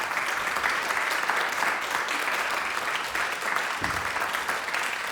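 Sustained applause from a seated audience after a talk at a Siba Talks event, steady dense clapping throughout with no voices over it.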